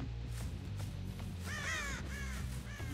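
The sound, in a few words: crows cawing in the video game Dead by Daylight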